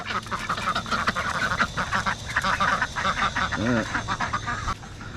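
Several ducks quacking repeatedly outdoors at a pond, a busy overlapping chorus of nasal calls at moderate volume, with one louder quack standing out near the end.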